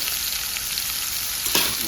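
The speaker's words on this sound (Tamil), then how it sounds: "கடலப்பருப்பெல்லாம் நல்லா வறுத்து வச்சு வெங்காயம் போடுறோம்." Onions frying in oil with roasted chana dal for vegetable rava kichadi, a loud close steady sizzle filling the short stretch, with a brief stirring scrape near the end.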